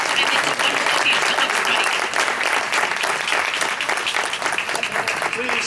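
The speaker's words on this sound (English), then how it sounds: "Give them one more round of applause as they leave." Sustained audience applause at a school board meeting as departing students and their teacher leave, dense and steady throughout with no gaps.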